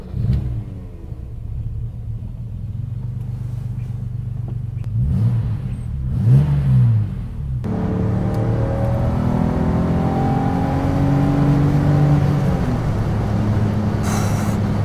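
A BMW road car built almost like a race car revs its engine hard, then the throttle is released and a throaty rumble carries on at a lower, steadier pitch.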